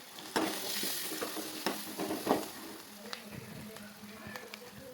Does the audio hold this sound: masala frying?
yes